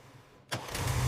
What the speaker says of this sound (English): The final assembly is complete, and the engine sounds perfect.